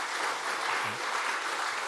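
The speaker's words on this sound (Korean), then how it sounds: "박수 쳐주시기 바랍니다." Applause from a church congregation during a prayer meeting, a dense steady patter of clapping from a gathered crowd that runs throughout the moment.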